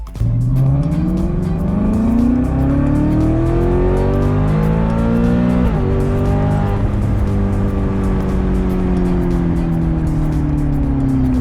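A loud sports car engine revving and pulling hard, pitch rising and shifting through gears, steady and close with no talking.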